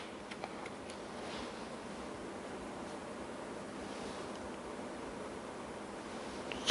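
Steady airflow from a classroom air conditioner makes a soft, even broadband whoosh, moderately loud and unbroken throughout, with no voices over it.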